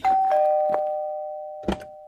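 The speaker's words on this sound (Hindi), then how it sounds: "घर के दरवाजे की घंटी बजी" A doorbell chimes with a clear ding-dong tone that rings on and slowly fades, with a few knocks or thumps around it.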